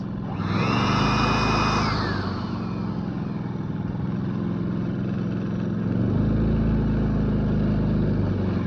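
A Predator 3500 inverter generator runs nearby with a steady, droning engine hum, briefly overlaid at the start by a higher mechanical whine that fades. The drone swells slightly louder near the end.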